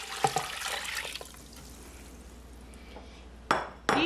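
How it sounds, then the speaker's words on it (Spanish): Water splashes briefly into a pot holding beef leg, potato, onion and salt for soup, then fades before two sharp metallic clanks of kitchenware ring out close by. "Vamos a agregar el agua."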